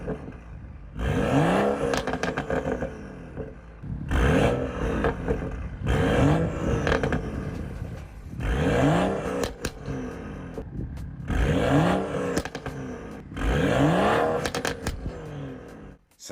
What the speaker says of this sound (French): Vous avez entendu ce que ça donne à l'arrière avec les pétarades de l'échappement?